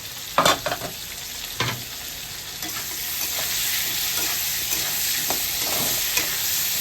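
Onion and green chilies frying in a pan for a Bengali fish curry, a continuous loud sizzle with a few sharp scraping stirs near the start, close and alone without voices.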